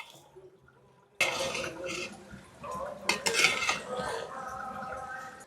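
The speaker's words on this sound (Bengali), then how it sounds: "চিনিটা এইভাবে আস্তে আস্তে করে একটু মিশিয়ে দেব হালকা হাতে" A spoon scrapes and clinks against a pot as sugar is gently stirred into partly cooked rice for a Hyderabadi-style biryani pulao, with steady close scraping after a quiet start and no talking.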